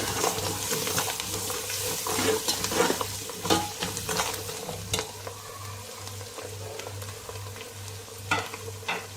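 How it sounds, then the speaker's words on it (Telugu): Biryani masala with chopped coriander and mint stirred in a pot, a steady sizzle with repeated scraping strokes of the spoon, close up and without talk. "సన్నగా కట్ చేసుకున్న కొత్తిమీరను పుదీనా ఇవి వేసుకొని బాగా మిక్స్ చేసుకోవాలి."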